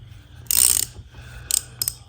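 A small two-jaw puller works a pinion nut off a truck axle, giving metallic ratcheting clicks in a loud burst near the start, then two shorter bursts of clicking, all close up with no talking.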